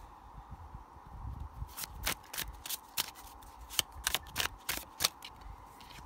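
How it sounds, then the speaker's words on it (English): Tarot cards being turned over and handled at a table, a run of crisp, close card snaps and slides in an irregular rhythm over a soft background hum, with no talk. "I'll turn the cards over in a moment."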